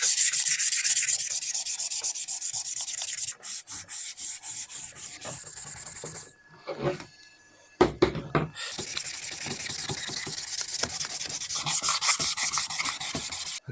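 Wet sanding of oxidized plastic trim pieces from a classic TA22 Celica, a steady close rubbing and scraping that runs in long strokes, broken by a short quieter pause midway before resuming.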